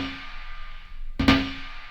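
A single snare hit from an FM synth blended with a sample in the Battalion drum plugin, a sharp noisy burst with a short tonal ring, heard close over a faint steady hum.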